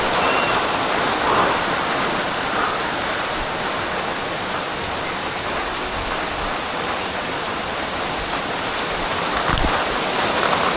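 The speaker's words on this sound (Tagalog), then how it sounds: "Ay, ang lakas ng ulan ah." Heavy rain pours down outdoors, a loud continuous hiss of drops striking surfaces that stays dense and even from start to finish.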